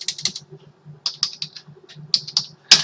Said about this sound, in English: So all the three quantities are entered from the keyboard